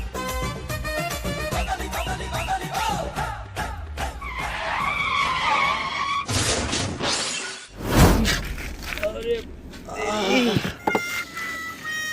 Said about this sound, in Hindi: भाई तस्वीर तो टूट गई।